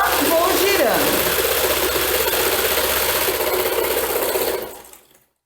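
A sewing machine runs steadily while stitching small fabric doll legs, a close, even whirring hum with rapid ticking that holds for several seconds before stopping abruptly; someone talks over it.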